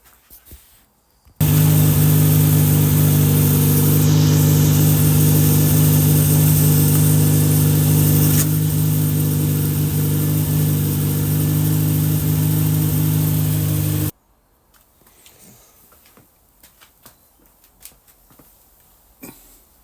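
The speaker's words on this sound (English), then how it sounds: "we'll fire up, get it warmed up" An MG Midget engine with SU carburettors starts and settles into a loud, steady, droning idle as it warms up, running for about twelve seconds before shutting off abruptly, leaving faint background noise.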